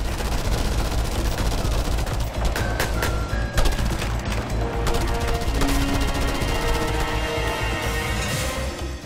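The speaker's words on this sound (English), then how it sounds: "pull out your guns and start firing at them" Dense, continuous gunfire and explosions from the Just Cause 2 video game, loud and layered for the whole stretch with no speech over it.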